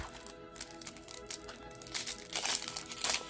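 A foil wrapper on a Yu-Gi-Oh trading card pack crinkles and tears open in close, uneven bursts, rising louder toward the end with sharp crackly rustling.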